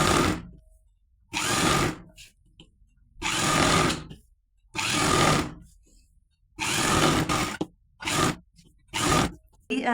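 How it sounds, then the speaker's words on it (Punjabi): A sewing machine stitching fabric for an undershirt runs in repeated bursts of loud, fast mechanical whirring, each lasting about a second, with short quiet pauses between them. "ਪਹਿਲਾਂ ਇੱਕ ਸਿੰਗਲ ਵਾਰੀ ਫੋਲਡ ਕਰਕੇ ਆਪਾਂ ਸਿਲਾਈ ਲਾ ਦੇਣੀ ਆ"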